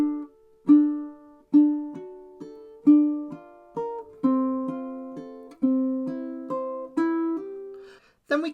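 Fingerstyle ukulele plays the bridge of a song, a steady run of plucked notes and chords in rising phrases, close and clear with no talking.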